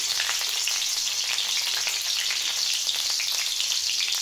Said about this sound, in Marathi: तेल गरम झालं, त्यामध्ये आपण कट केलेली हिरवी मिरची टाकून घेऊ.